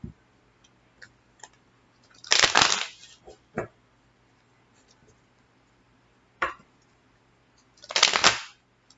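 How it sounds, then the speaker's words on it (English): A deck of cards shuffled during a tarot reading, two quick riffling bursts a few seconds apart with softer taps and card handling between them, close and clear in an otherwise quiet room. "I get to shuffle it, and when I think I only need one more shuffle, Spirit will say"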